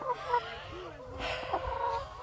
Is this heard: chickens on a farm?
yes